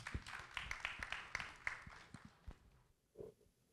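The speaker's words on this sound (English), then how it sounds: "let's welcome her again with a round of applause" Applause at a business council economic update event, a short burst of claps that thins out and fades within a few seconds, moderately distant in a large room.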